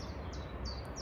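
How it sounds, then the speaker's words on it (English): Faint, high chiffchaff song notes repeat a few times in quick succession at a wildlife reserve near the Falls of Clyde, distant over a steady outdoor background hum. "I can already hear chiff chaffs"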